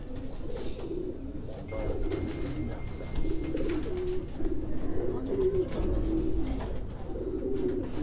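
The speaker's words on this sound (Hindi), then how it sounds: "ये जर्मनी से इंपोर्टेड कबूतर जो हैं ये आपको तनवीर हुसैन उनकी लाट से हम दिखा रहे हैं।" Racing pigeons imported from Germany coo steadily in a loft in Quetta, low, throaty rolling calls, several birds overlapping close by against a soft background hum.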